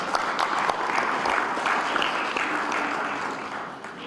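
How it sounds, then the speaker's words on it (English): Steady audience applause at a weightlifting federation congress, a broad even patter of many hands that holds for several seconds and then gradually thins out. "So I think they need an applause."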